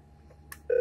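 A telephone keypad on a CCL EPABX 108S exchange being programmed gives a faint click, then one short, clear dialing tone near the end.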